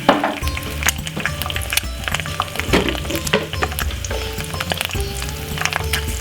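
An egg frying in a pan, a steady bright sizzle and crackle with small clinks and spatters, close and continuous, no talking.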